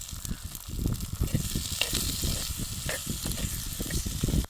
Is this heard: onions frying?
yes